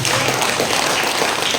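An audience at a devotional evening gathering claps steadily and densely, like a continuous wash of applause for a short burst.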